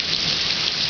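Steady rain pours down outdoors in a thunderstorm, a loud, dense, continuous hiss with no voices.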